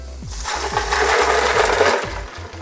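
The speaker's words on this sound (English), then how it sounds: "Now we're gonna do 8 ounces of some crushed ice in our blender." A blender pulses crushed ice for a tiki cocktail in a home kitchen, the motor surging in short repeated bursts with a gritty, rattling churn between pulses.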